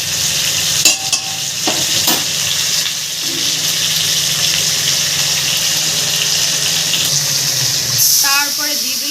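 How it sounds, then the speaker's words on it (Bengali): Cold water poured onto bhola fish frying in a pan, a loud steady sizzle and bubbling with stirring clatter throughout, plus a brief splashing burst near the end. "তারপরে দিয়ে দিল ঠান্ডা জল, মাছের গায়ে পড়লো ঠান্ডা জল"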